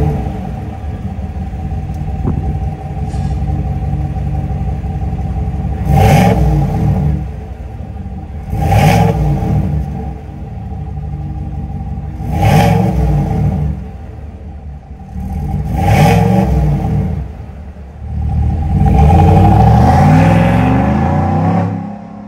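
A 2024 Chevy Silverado 1500 High Country's 6.2 liter V8 with active exhaust idling with a deep rumble, then revved five times in evenly spaced bursts, the last a longer, higher climb, loud and close with no talk.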